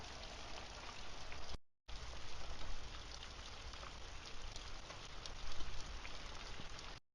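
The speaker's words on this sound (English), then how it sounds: "it's raining outside" Steady rain falls outside a shop, a dense, even hiss of drops on surfaces with a brief break partway through, close and continuous with no voices.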